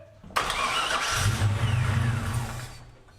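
A 1978 Pontiac Firebird engine that will not idle cranks and catches, then runs roughly and unevenly for about three seconds, loud and close, before dying away.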